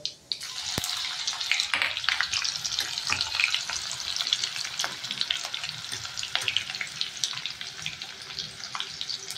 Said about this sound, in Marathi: अर्धा चमचा मोहरी टाकली, अर्धा चमचा जिरं टाकले आणि अगदी 2 लसणाच्या पाकळ्या फोडणीला टाकल्या